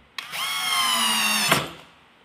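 A power drill or screwdriver drives a screw back into a door knob during a knob replacement, one steady whirring burst of about a second and a half, close and loud, ending with a short clunk.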